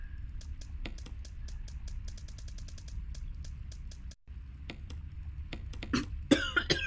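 Coughing from a character in the Resident Evil remake, playing as Chris, heard as a cluster of short rough bursts near the end over a low hum and steady keyboard clicking.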